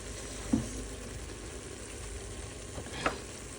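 Goat meat fries with cumin and coriander powder in a pan, giving a low, steady sizzle with a couple of faint knocks from stirring, quiet and close.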